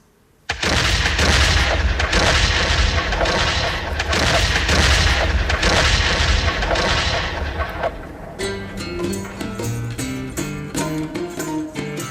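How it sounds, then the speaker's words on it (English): Cannons boom in a dense, sustained barrage of heavy blasts and rumbling fire in a staged battle scene, loud and continuous for about eight seconds before giving way to a rhythmic, quieter pulsing. "Fire the cannons!"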